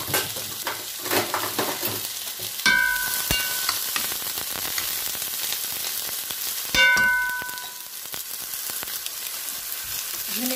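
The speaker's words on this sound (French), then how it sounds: "je mélange mes oignons" Onions fry in a pan with a steady, fairly loud sizzle while a utensil stirs them, and two bright metallic clinks ring out against the pan partway through.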